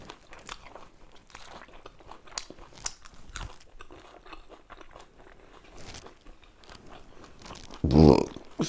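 Crunchy bites into a fried spring roll dipped in sauce, scattered soft crunches, then one loud close-up crunching chew near the end.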